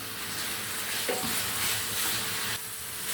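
Chicken meat sizzles steadily in a hot pan while being stirred, with a brief spatula scrape near the middle. The close, continuous frying hiss quiets a little toward the end.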